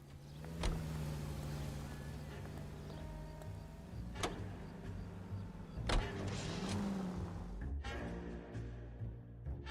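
A car driven through 1940s Los Angeles in L.A. Noire, with a steady engine hum, a few sharp clunks and thumps scattered across it, and a rising rev near the end.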